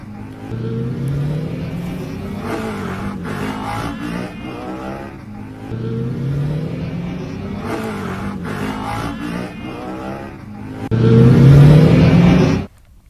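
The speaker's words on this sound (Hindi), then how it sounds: "वन वे रोड पर बाइकर्स स्टंट कर रहे हैं" Motorbikes rev repeatedly as bikers perform stunts on a one-way road, the engine note rising and falling in waves with a louder, harder burst near the end and no voices.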